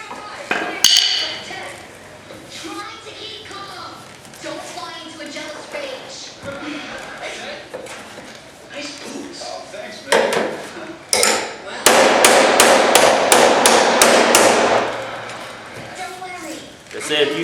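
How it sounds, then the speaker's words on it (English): Body hammer tapping the sheet metal of a car's cowl hood, with sharp metallic strikes in irregular bursts and a dense, loud run of rapid blows near the end, mixed with someone talking throughout. "if you hit it with this hammer,"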